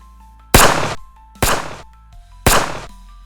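Three loud, sharp gunshot blasts ring out about a second apart, each followed by a short decaying echo, with no voices.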